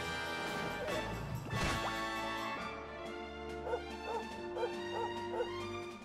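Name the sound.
dog barking in the video game Dragon Quest XI S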